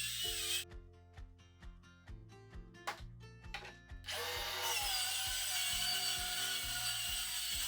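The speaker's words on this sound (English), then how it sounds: "When cutting a plywood panel like such, try adding support under it to catch your cutoffs." Power saw cutting a plywood panel for a DIY workbench build, a few sharp motor bursts and knocks followed by a sustained loud whining cut that runs steadily to the end.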